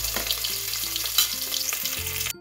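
Ginger, garlic and green chillies fry in hot oil for a curry, giving a steady, close sizzle with a few stirring scrapes and no voices.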